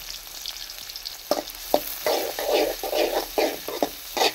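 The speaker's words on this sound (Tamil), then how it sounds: "வெங்காயம் போட்டு கிரேவிக்கு வெங்காயம் வதக்கிட்டு கிரேவி செய்யலாம்னு சொல்லிட்டு" Onions sautéing in oil for chicken gravy sizzle loudly up close, with rhythmic scraping stirs of a spatula in the pan producing repeated bursts of frying noise.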